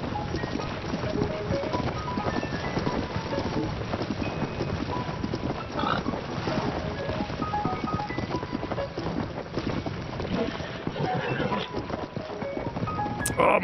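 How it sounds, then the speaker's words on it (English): Horse hooves galloping in Zelda: Tears of the Kingdom, a steady run of hoofbeats layered under dense game music and ambience, continuous throughout with no speech. "the horse is going off track"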